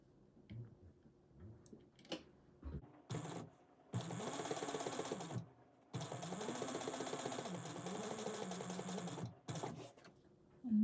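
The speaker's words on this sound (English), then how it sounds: "bring it over to your machine. And then you're going to stitch around it" Sewing machine stitching 1/8 inch around a piece, heard as several close bursts of steady mechanical whirring separated by short pauses.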